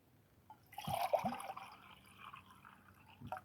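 Water poured into a metal canteen cup for cooking grits outdoors, a short splashing gurgle with a couple of sloshes, close and fairly soft, fading to quiet drips.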